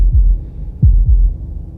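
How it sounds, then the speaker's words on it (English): A heartbeat in the video game Slay the Princess thumps deep and loud, a single beat followed by a close double beat, with no other sound. "That was the sound of a heartbeat,"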